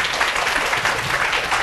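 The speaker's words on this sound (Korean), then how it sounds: "큰 박수로 좀 환영해 주시기 바랍니다." An audience at a colloquium claps to welcome a speaker, giving a steady, fairly loud burst of applause throughout.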